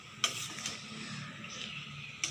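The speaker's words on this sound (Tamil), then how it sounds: "நல்லா கிண்டி விட்டுறலாம்." Curry being stirred in a pan gives a soft, steady sizzle broken by a couple of sharp scrapes of the spoon against the metal, quiet and close.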